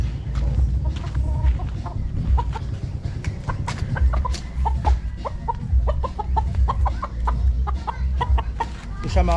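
A Sweater gamecock rooster being dosed with vitamins clucks in short, repeated bursts close by over a constant low background hum.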